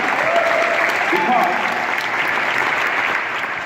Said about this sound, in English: Give a round of applause to Ed.